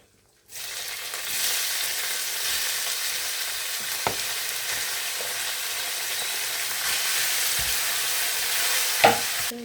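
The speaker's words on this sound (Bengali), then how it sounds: "গরম তেলটা কিন্তু মিডিয়াম অবস্থায় আছে, দিয়ে দিব। বিসমিল্লাহ। এটা ভাজা হোক" Food dropped into medium-hot oil bursts into a loud, continuous sizzle after a brief silence, holding steady with a few utensil clinks and stirring knocks toward the end, no talking.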